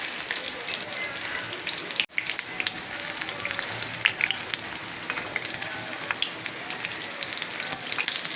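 Potato bhajiya deep-fry in oil with a constant, close, crackling sizzle. The sound drops out for a moment near the start, and scattered pops and faint background sounds run throughout.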